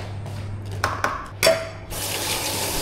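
Tap water running into a pot while cooking chicken, with a few clanks and knocks of cookware before a steady, close splashing stream takes over to the end.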